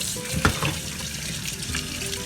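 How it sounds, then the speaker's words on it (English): Running water splashes steadily over rice being washed in a kitchen sink, a continuous close hiss with small sloshing bursts, no talk. "So this is how we wash our rice, like this."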